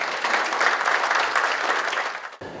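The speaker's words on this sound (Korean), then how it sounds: "큰 박수로 환영해 주시기 바랍니다" An audience at an economics lecture for CEOs applauds to welcome the speaker, a dense, even clatter of many hands clapping that holds steady for about two seconds before stopping abruptly.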